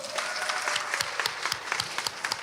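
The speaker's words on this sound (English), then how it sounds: "Let's give them a big round of applause." A crowd at a graduation ceremony claps steadily in a dense burst of applause, close and lively, with individual sharp claps standing out.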